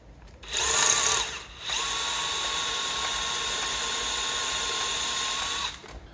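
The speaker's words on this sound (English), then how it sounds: "So that one had rounded off, so I had to drill it out." A power drill bores out a rounded-off bolt on a car engine, whining loudly and steadily in two runs, a short burst then a longer sustained drilling stretch, close up with no talk.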